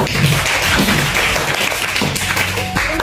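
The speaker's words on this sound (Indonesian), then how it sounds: "Oke, kita kasih tepuk tangan." Students in a classroom give a short round of applause after a correct answer, a busy patter of hand claps that fills the room, with faint voices underneath.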